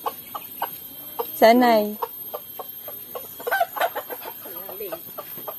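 Chickens clucking at feeding time on a farm, with one loud rooster-like squawk early, then scattered short clucks, while someone speaks nearby.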